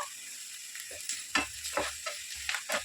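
Onions frying in a pan with turmeric being stirred in, a crackling sizzle punctuated by repeated scraping strokes of the spoon, close and clear with no voices.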